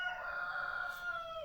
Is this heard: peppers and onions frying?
no